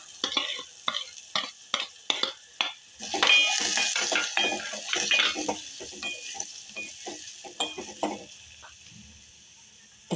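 Carrots and onions frying and being stirred in a pan for a ragi soup, with a steady sizzle and a close, regular rhythm of utensil scrapes and clacks, with no voice heard.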